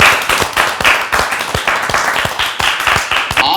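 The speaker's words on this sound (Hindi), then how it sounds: "आप अपने पांचों के लिए तालियां बजा दो।" Loud, close clapping from a studio audience at a reality show finale, a brisk, continuous patter of many hands with no voices over it.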